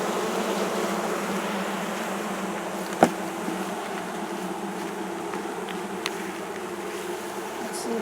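Honey bees buzz around an open hive during an inspection, a dense continuous drone close to the listener with a single sharp click partway through.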